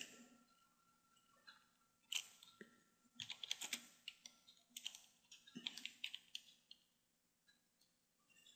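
Computer keyboard typing in bursts of quick, close clicks with short pauses, fairly quiet and without talk.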